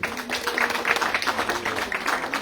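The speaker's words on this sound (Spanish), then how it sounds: "un aplauso para nuestros compañeros de UNU" Audience applause at an environmental and cultural gathering, a steady wash of many hands clapping for a visiting group, moderately loud and sustained throughout with faint voices mixed in.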